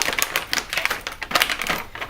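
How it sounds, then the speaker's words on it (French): Easy-open foil packet of a blood test card being torn open by hand, giving a quick run of crisp, crackly tearing and crinkling bursts, fairly close and alone with no speech. "Vous avez un système d'ouverture facile et on va ouvrir notre carte."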